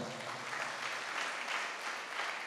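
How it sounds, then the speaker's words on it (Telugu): A church congregation applauds together in a steady, dense wash of clapping that fills the whole moment with no voices standing out. "చప్పట్లు కొడదాం."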